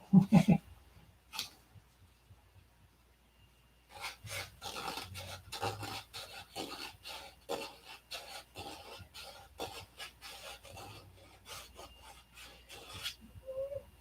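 A thumb rubbing a small high spot in a series of short, rhythmic dry scrapes, close and fairly quiet, following a brief pause after a couple of faint knocks.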